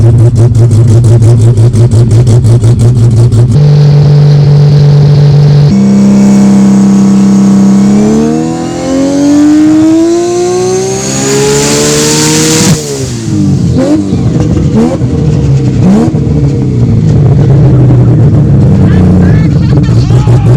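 A car engine revs hard on a dyno run, its pitch climbing in steps through the gears to a high, loud scream before dropping away abruptly and burbling back down, with a voice speaking over it.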